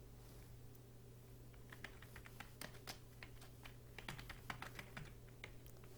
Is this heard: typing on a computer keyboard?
yes